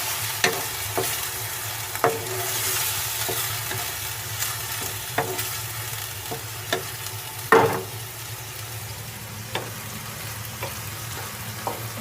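Minced beef keema fries in a pan with a continuous close sizzle, punctuated by intermittent sharp clinks and scrapes of a spatula against the metal, with no voices.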